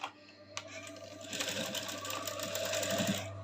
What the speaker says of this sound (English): I'm sewing on the seam line which I just marked now.